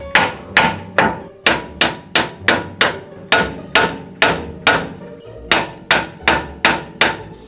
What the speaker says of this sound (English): Next step, you need to hit it harder. You're choking up the hammer.